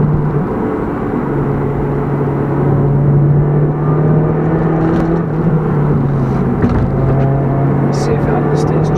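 A Toyota Yaris GRMN Gazoo Racing hot hatch drives with a steady, droning engine and exhaust hum from inside the cabin, holding an even pitch throughout, with a voice talking over it.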